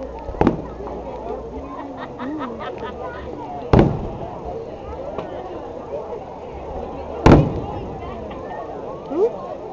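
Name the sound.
fireworks exploding at a fireworks show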